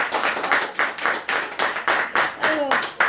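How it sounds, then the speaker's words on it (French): Audience applauding after a product presentation by a laboratory director, with rhythmic bursts of clapping that sound like a small crowd close by, while voices murmur and call out beneath it. "On va applaudir pour... Merci."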